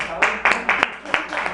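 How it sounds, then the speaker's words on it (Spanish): A small audience claps for a presenter, a handful of sharp, separate claps at an uneven rhythm, fairly close and brief. "¿Qué tal si le damos un aplauso a Patti?"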